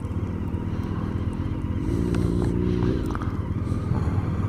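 Harley-Davidson Pan America motorcycle on an evening ride, its engine a steady, loud, continuous drone with a rising pitch sweep midway, mixed with road and wind rush and no talking.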